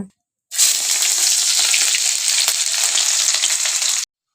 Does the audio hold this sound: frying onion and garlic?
yes